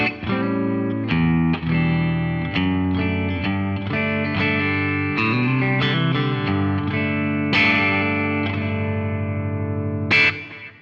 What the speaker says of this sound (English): let's have a quick listen to the clean sound we're going to be working with.